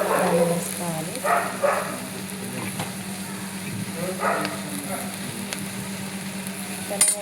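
Green chillies fry in a pan with a steady sizzle while a spoon stirs and scrapes now and then, close up, as a person talks.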